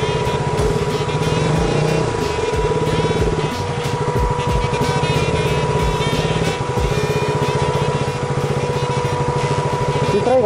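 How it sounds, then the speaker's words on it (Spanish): Cars go past on a road while a steady engine drones close by throughout, with a rising rev toward the end and some faint chatter in the background. "Deja que pasen los carros."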